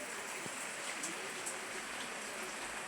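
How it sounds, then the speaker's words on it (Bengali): Steady rain falls in an even, dense patter, with a few louder drops landing now and then. No one speaks. "সকালে উঠে দেখি এই যে বৃষ্টি হইতেই আছে"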